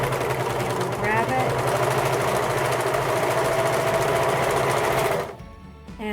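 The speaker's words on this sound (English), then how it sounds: "And when I start sewing, I will grab" A sewing machine runs a plain seam with a steady, fast, loud mechanical hum and rhythmic needle chatter, then stops abruptly near the end.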